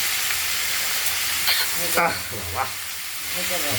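Vegetables being stirred as they fry in a spice tempering, a hissing sizzle with bursts of scraping and a couple of louder crackles in the middle, steady and close.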